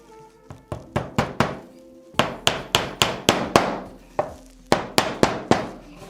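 A hammer strikes repeatedly while making a leather strop for leathercraft, a run of sharp, close knocks in quick bursts with brief pauses between groups. No one speaks.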